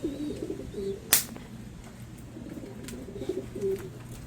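Pigeons coo softly in low, repeated bursts at racing-pigeon loft training, with a steady low hum underneath and one sharp broadband clatter partway through.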